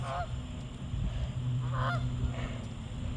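Canada geese honk a few times at a distance over a lake, with a low, steady background rumble.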